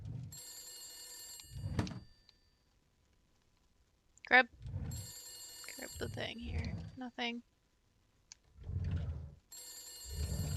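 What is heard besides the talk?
telephone ringing in a video game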